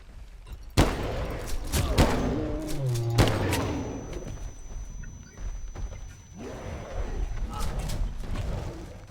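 Handgun fire in the Bigfoot video game comes as a few sharp shots spread through the clip, mixed with other game noises and a person talking over them.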